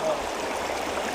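River current flowing in a steady, soft broadband rush with a faint gurgle, moderately quiet and continuous, no talk.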